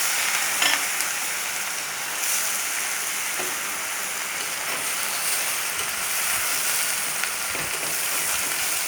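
Onions sautéed until browned, with boiled sweet potato added to the pan, give a dense, continuous loud sizzle like steady rain, broken by occasional faint stirring scrapes.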